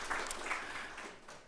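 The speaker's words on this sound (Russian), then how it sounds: "Коллеги, давайте друг друга приветствовать все-таки аплодисментами." Colleagues at a logistics industry forum applaud one another, a soft, fairly faint wash of clapping that tapers off toward the end.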